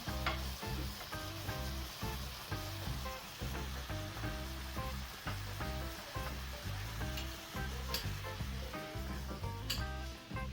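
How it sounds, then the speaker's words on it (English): Vegetables and onions sizzle steadily in a hot pan, with a crackling hiss and rhythmic scraping as they are stirred. "Fry these little bits of veg."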